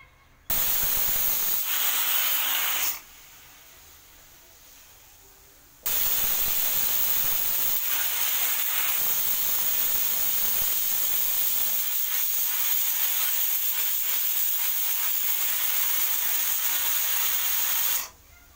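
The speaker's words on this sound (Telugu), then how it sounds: "ఇలా 3 విజిల్ అయినాయి ఫ్రెండ్స్." A pressure cooker on a stovetop, cooking gongura dal, gives off loud, sustained bursts of hissing steam and whistling. A short blast is followed by a pause, then a long continuous release.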